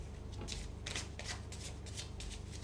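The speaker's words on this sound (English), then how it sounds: "I'm going to shuffle the cards thrice and then have the spread ready for you." Tarot cards being shuffled in quick riffling bursts, several crisp rustling pulses close by with no talking.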